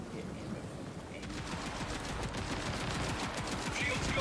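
Rapid energy-weapon gunfire from the video game Borderlands 4, a dense steady stream of crackling shots running throughout at a constant, moderately loud level with game noise behind.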